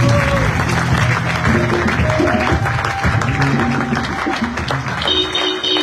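A church congregation claps for Jesus in sustained, dense applause that carries on throughout, with music and voices mixed in beneath the clapping.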